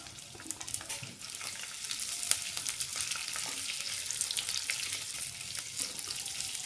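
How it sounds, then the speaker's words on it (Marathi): Ivy gourd (tondli) frying in oil in a kadhai over high heat gives a steady, dense sizzle throughout, with faint stirring clicks and scrapes scattered over the hiss. "आपल्याला तोंडले फ्राय करून घ्यायचे आहेत पहिल्यांदा"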